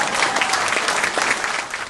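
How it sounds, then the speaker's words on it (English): A speedway club awards night crowd breaks into steady, dense applause, moderately loud and continuous throughout. "Big round of applause for Cindy for letting him race."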